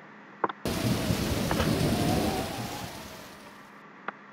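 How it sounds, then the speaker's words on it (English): A thunderstorm with rain: a deep rolling thunder rumble breaks in suddenly and spreads over steady rainfall, then slowly fades, with a couple of faint sharp clicks before and after. "Sound like storms coming."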